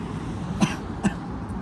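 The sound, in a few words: coughing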